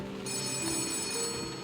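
A telephone rings in a video game, a steady electronic trill that carries on at a moderate level with no talk over it.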